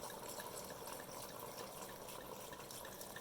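Water and white wine are poured into a pan around a pork belly, a soft continuous trickle and splash of liquid, quiet and close, with no talking.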